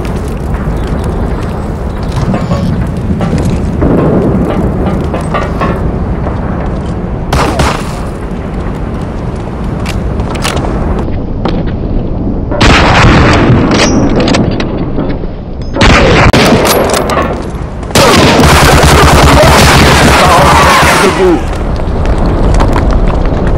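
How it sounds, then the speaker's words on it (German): Grenade blasts and gunfire from the video game Medal of Honor Allied Assault, a dense loud barrage of booming explosions and shots with several heavier bursts, and voices shouting in the mix. "Granate! In Deckung!"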